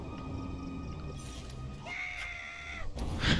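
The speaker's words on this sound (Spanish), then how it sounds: "El grito." A scream from the video game Destroy All Humans! 2 rises as a drawn-out, tonal wail over game background noise, followed by a louder burst at the end.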